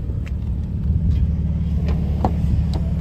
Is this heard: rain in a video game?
no